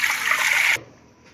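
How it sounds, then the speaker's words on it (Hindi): Water poured from a small jug into a pressure cooker while cooking shami kabab, a steady, fairly loud pouring rush that stops abruptly, leaving quiet room tone. "यहाँ पे हम सबसे पहले इसके अंदर प्रेशर कुकर के अंदर डालेंगे ये छोटे 2 जग पानी के"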